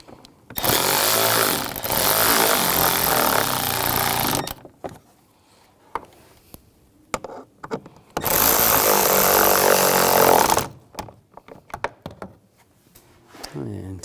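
A cordless power tool drives bolts on a 2011-2018 Volkswagen Jetta during an AC condenser and receiver drier replacement, whirring loudly in two long bursts of about four seconds each, with quiet clicks and handling sounds in between.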